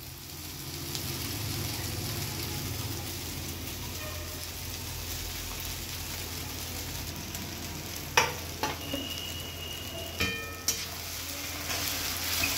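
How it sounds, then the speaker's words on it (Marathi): Soaked puffed rice (murmure) fries in a pan, a soft, continuous sizzle and crackle broken by a few sharp scrapes and clinks of a spoon stirring against the metal. "त्याला प्रॉपरली फ्राय करतोय"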